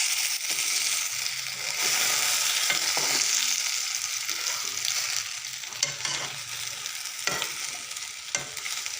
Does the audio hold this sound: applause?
no